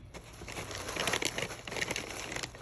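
Scissors cut through the cardboard top of a playing card box, a close, continuous papery crinkle and snipping rustle with no voices.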